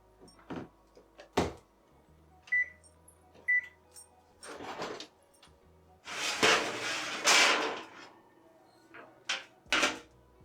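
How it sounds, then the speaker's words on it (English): An oven being set to preheat to 350 in a home kitchen, with two short electronic beeps standing out among clattering cupboard, door and utensil knocks, all fairly close and loud. "So you want to preheat the oven to 350."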